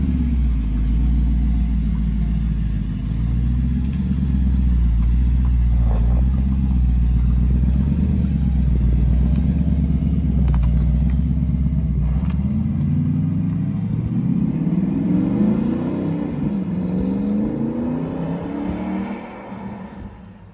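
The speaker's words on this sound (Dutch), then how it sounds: "De Audi R8 wordt nu afgeleverd met nieuw Miltec uitlaatsysteem." Audi R8 V10 Plus fitted with a new Miltec exhaust system, a loud, deep idling rumble that shifts into rising revs and then fades away.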